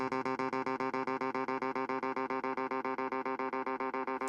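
A rapidly repeating clavinet tone echoes in a tight, pulsing rhythm, an analog-style delay stacking copies close to runaway feedback, steady and sustained.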